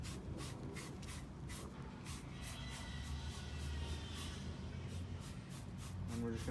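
Spray of WaxGods Premier wheel cleaner being applied to a car wheel and its grooves, heard as steady close hissing bursts in a rapid repeated rhythm over a continuous low background rumble.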